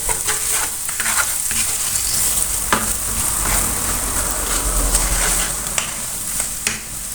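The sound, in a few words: spices with turmeric being roasted in a pan on low gas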